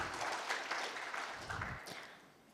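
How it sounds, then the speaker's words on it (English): An audience claps for a team announced at a Kenyan finance research competition final, giving a steady, moderately faint round of applause that tapers off toward the end. "Round of applause for Team E."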